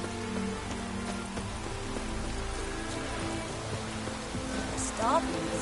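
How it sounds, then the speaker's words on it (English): Steady rain patters across the open world of The Witcher 3: Wild Hunt, a continuous wash that persists throughout, with game music and ambient tones layered over it and a few faint sound effects near the end. "Looks like rain."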